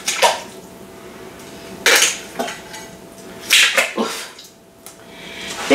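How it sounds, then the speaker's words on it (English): Chunks of meat are dropped and tossed back into an Instant Pot in several bursts of wet slapping, splashing and clattering against the metal insert, close by with quiet gaps between. "toss this meat back in here"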